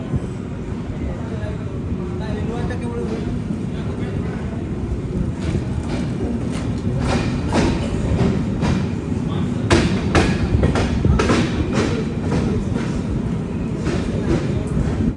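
The Howrah–Bhubaneswar Jan Shatabdi Express rumbles into Cuttack station with a dense, steady roar and clattering wheels, close and loud, with rhythmic knocks building toward the end.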